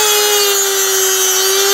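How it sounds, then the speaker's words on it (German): Grinder taking down a rivet head on the sheet-metal housing of a field resistor in an electronic voltage regulator, a loud steady whine with bright broadband hiss that runs unbroken for nearly two seconds, then cuts off abruptly. "Dazu schleife ich hier den Nietkopf weg in Bildmitte"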